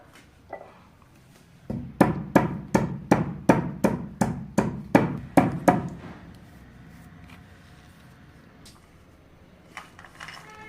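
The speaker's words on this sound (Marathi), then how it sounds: "आधी आपल्याला खोबरं ठेसून घ्यायचं थोडंसं." Coconut pieces are pounded on a traditional stone grinding slab, giving about a dozen sharp, evenly spaced thuds in quick succession, loud and close, followed by quieter scraping and shuffling.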